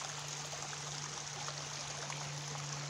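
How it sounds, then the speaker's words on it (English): Water flows steadily through the culverted channels of a canal feeder where it overflows, a continuous close rushing trickle with a low steady hum beneath and no voices. "Feeds the entire system with water, and then overflows through here."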